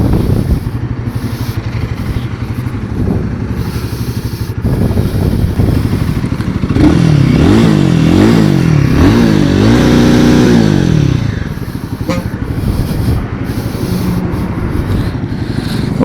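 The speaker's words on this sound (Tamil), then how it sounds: "எக்ஸாஸ்ட் நோட் கேட்டிருப்பீங்கன்னு நினைக்கிறேன்" A 2025 Royal Enfield Guerrilla 450 motorcycle's exhaust revs up through several rising and falling throttle blips mid-clip, loud and close, over a steady idle rumble with no talk.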